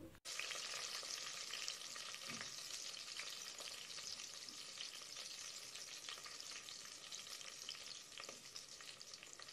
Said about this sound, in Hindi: इसमें to medium size chopped onions डालेंगे प्याज को थोड़ा पकाना है थ्री टू फोर मिनट्स के लिए